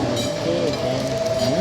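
A train passing near a beach, a loud steady rumble with tonal wheel or horn-like whine lines sliding through the middle, close and continuous for the short span.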